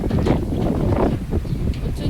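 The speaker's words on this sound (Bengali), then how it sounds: "প্রচুর জোর হাওয়া বইছে" Strong wind blows in gusts during a power cut before rain, buffeting the microphone with loud, rumbling low roars that rise and fall, while a voice is faintly present beneath it.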